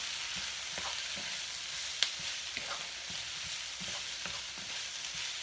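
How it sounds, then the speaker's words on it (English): Peas, carrots and corn fry in a pan for vegetable fried rice, giving a soft, even sizzle with faint crackles and a few stirring scrapes, with no voices. "And you let these fry again for about 2 to 3 minutes"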